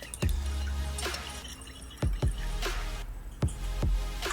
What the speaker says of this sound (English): now we add 1 cup of freezing cold water, sort of a yin and yang thing, and stir that up as well